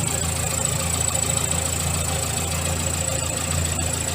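A Morris Minor engine runs steadily with a constant low mechanical drone and faint knocking, loud and close, with the throttle held and no talking.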